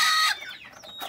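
A broody hen sitting on a nest of three eggs gives a short, bright clucking call that trails off into quieter murmurs, close and brief, with no talking.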